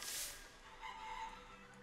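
Chickens clucking inside the physics building game Besiege, a short burst of squawking fowl noise up close, then lower clucks over steady background game sound, with no voices.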